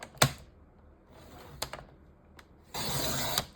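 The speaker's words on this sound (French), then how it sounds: "Je vais ouvrir le petit massicot qui est ici. Et là, je vais donc venir couper la page" Small paper trimmer slicing a photo album page: a few sharp clicks and snaps of the blade, then a short burst of scraping cut noise, quiet and close.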